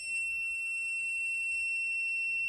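A K19+ signal detector alarm, triggered by a phone's signal, sounds continuously, a steady electronic tone, high and piercing, with several sustained pitches layered over a faint low rumble.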